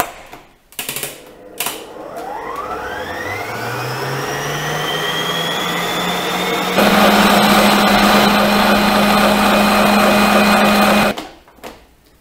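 A stand mixer's whisk spins up from rest, its motor whine rising steadily in pitch, then settles into a loud, steady high-speed run for several seconds before cutting off, whipping pink-tinted meringue for macaron shells.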